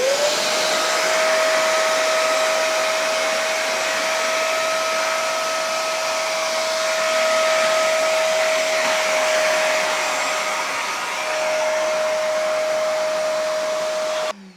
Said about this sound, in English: This is just me hoovering up some milk.